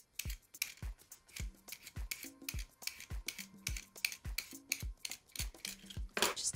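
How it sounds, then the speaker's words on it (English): A vegetable peeler scraping the skin off fresh ginger for a strawberry ginger kombucha flavoring: a steady series of about a dozen short, crisp scraping strokes in an even rhythm, close and clear, with no talking. "I just like to use a vegetable peeler to get the peel off of the ginger."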